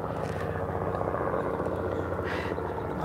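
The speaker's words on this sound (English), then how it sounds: "I think that little helicopter's coming back in." A small helicopter drones at a distance near Carnarvon, its steady rotor chop and engine hum continuing without a break.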